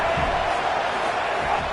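A dense stadium crowd at an Alabama vs LSU college football game roars steadily, a loud continuous wash of cheering and yelling with no breaks.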